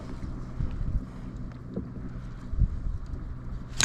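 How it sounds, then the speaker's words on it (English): Sea wind buffets the microphone while kayak fishing off the Scottish coast, a steady rushing roar with gusty swells and low rumbling bumps. "The wind's picked up a wee bit as well"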